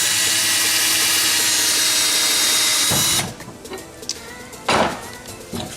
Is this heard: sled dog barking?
no